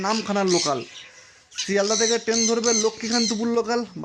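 Pet conure parrots, including pineapple conure chicks, squawk in a bird shop with loud, harsh, repeated calls in two bursts separated by a short pause.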